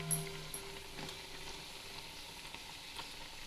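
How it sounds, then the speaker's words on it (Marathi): Potato bhaji fritters deep frying in oil, an even, quiet hiss of bubbling that holds steady from start to finish, heard alone at close range. "आपण बटाट्याची भजी आपण मस्त छानपैकी आता तळून घेऊ"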